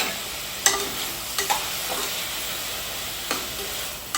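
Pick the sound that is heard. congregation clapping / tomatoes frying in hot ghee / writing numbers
tomatoes frying in hot ghee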